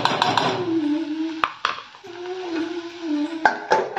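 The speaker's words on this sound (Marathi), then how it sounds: "आता हे मिक्स करते आणि 2 मिनटं फक्त झाकण ठेवून शिजवून घ्यायचं." Potato fasting curry is stirred in a metal pot, with a spoon scraping and clinking against the sides, then a lid set down with sharp metallic knocks, close and moderately loud, over a faint background hum.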